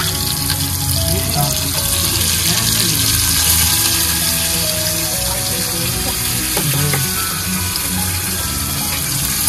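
Malvani masala paste with tomato and coriander sautéing in a pan, a steady dense sizzle with a watery, gushing quality that stays loud and continuous, with a faint voice briefly in the background.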